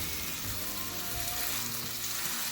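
A lamb smashburger patty fries in a pan with a continuous, moderately quiet sizzle and a soft crackle underneath, holding evenly throughout with no voices.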